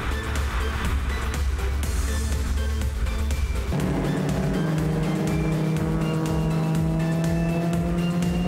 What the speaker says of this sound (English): the Porsche powers up the hill and past the Mini